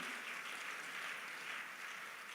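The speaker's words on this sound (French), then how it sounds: "Acclame le Seigneur Jésus" Steady, dense applause from a church congregation at a Sunday service, a continuous wash of clapping that holds evenly throughout without voices standing out.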